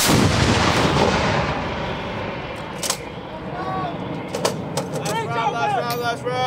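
An artillery gun fires a round in a single loud, booming blast at the start and rumbles away over a couple of seconds, followed by sharp metallic clanks and shouted crew commands.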